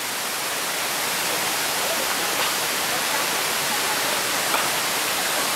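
The White Silk Waterfall in Japan rushing steadily, a dense, loud, unbroken roar of falling water with no pauses and no voices.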